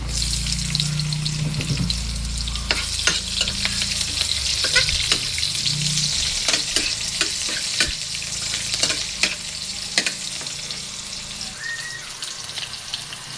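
Onion dropped into hot oil alongside milkfish for sarsyadong bangus, a loud close sizzle that settles into steady frying crackle with occasional stirring clicks and no talk.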